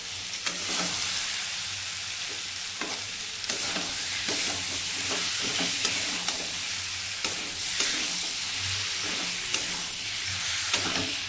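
Jackfruit and potato stir-fry in hot oil with a steady, bright sizzle, punctuated by regular scrapes and taps of a spatula against the pan, close and continuous without any voices.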